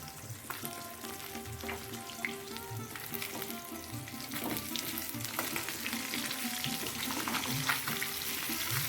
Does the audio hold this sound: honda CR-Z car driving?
no